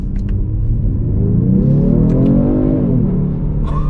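A 2020 Genesis G70 3.3T in sport mode pulls hard in first gear, its engine and exhaust note rising steadily in pitch and volume from inside the cabin, with a few faint clicks over the strong low rumble.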